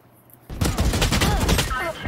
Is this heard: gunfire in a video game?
yes